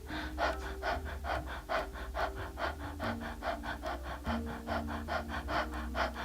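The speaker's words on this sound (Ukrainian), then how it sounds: "Дихаємо ротом і вдих і видих." Rapid, even mouth breathing during a yoga breathing exercise, short light inhales and exhales alternating in a steady quick rhythm, close and soft, with no talking.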